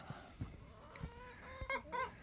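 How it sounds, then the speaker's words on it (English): Chickens roam outdoors on a ranch, giving a few short clucks and then brighter, honking calls toward the end over a steady outdoor background. "the chickens are out, roaming around"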